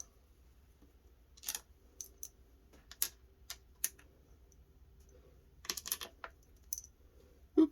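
Small screws from a SimLab Xero-play steering wheel quick release drop onto a hard surface during unboxing, making a scattered run of light clicks and taps at close range, with quiet pauses between short bursts.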